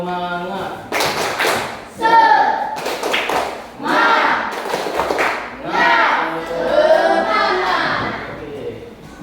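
A group of students in a classroom does a rhythmic cheer clap, with patterned bursts of hand claps and thuds mixed in with chanted voices, close and loud.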